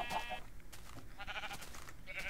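Sheep bleating in Minecraft, a few short game bleats spread across a couple of seconds amid steady background game sound, moderately loud with no speech.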